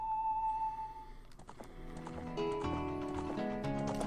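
Epona the horse gallops up with clip-clopping hooves in The Legend of Zelda: Ocarina of Time, a soft run of hoofbeats under melodic game music that follows an ocarina tune.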